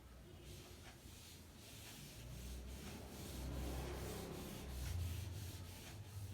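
Writing is rubbed off a board with a soft, faint, steady scrubbing that swells and fades in repeated strokes, with no speech over it.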